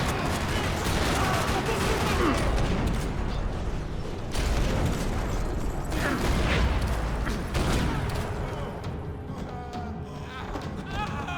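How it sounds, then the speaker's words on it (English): Sustained gunfire from the video game Max Payne 3 in a parking lot, dense loud bursts of automatic fire and blasts rattling almost continuously, easing slightly near the end. "Another parking lot rattling with gunfire."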